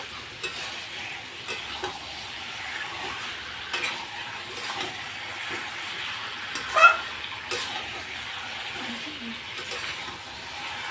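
Desi chicken curry being stirred in a pot, with soft sizzling under irregular scraping and clinking of a spoon against the pot, one louder knock near the middle.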